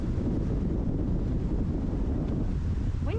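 Wind buffets the microphone at a lakeside campsite in the Kawarthas in a steady, low rumbling roar that lasts throughout, with a faint hint of water in the background.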